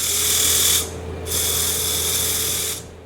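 A power sander smooths the edge of a wooden lidded box, giving a steady, loud, close whirring hiss that runs in two bursts with a short drop in between, then stops, with no talking.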